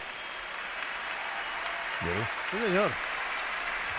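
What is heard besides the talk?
stadium crowd applauding at San Mamés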